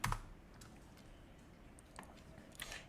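Keystrokes on a computer keyboard as a product review is typed into a search box, a few sharp clicks at the start and scattered light taps after, faint over quiet room noise.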